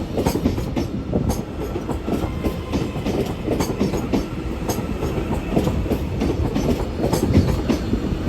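A TransPennine Express class 397 electric train pulling away from Carlisle station, with a close rumbling rush and rhythmic clicking of wheels over rail joints that builds steadily, with no talk.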